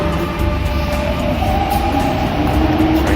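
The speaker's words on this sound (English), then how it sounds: "Trains coming, I think." A train pulling into St. John's Wood Underground station near Abbey Road in London gives a steady, loud rumble with a faint metallic whine throughout, and no voices are heard.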